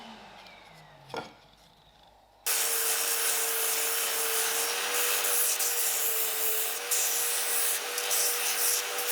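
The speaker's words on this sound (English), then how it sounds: "I use a spindle sander to get to the final shape." A spindle sander shaping a wooden zero-clearance insert for a miter saw: a brief faint start with a knock, then the sander switches on into a steady loud abrasive whir with rubbing as the wood is pressed against it.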